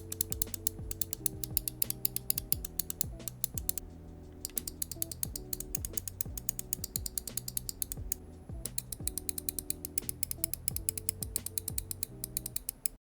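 Rapid, crisp clicks from a Pwnage Stormbreaker computer mouse in Platinum colorway, compared with an older unit, tapped in quick irregular bursts with a brief pause midway, close and fairly quiet with no talking.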